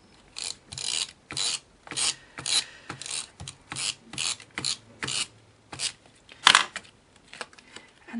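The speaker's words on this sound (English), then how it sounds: "And then I'm just, again, using my glue runner" A glue runner tape dispenser clicks and rasps in short repeated strokes across card, about a dozen quick close ratcheting pulls in a steady rhythm, quiet and alone.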